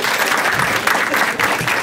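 An audience at a Marathi stand-up comedy crowd-work show applauds, a loud, dense patter of clapping with slight swells, heard without talk.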